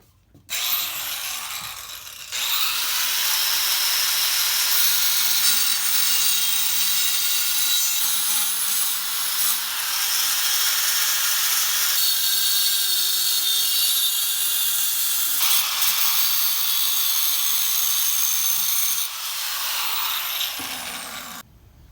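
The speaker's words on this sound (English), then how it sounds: "you're gonna have to cut a little bit on here on the corner" A saw cuts through the corners of a metal mounting bracket for a Tru-Cool 40K transmission cooler on a 4L60E-equipped truck, with steady loud sustained strokes running almost continuously and brief pauses between passes.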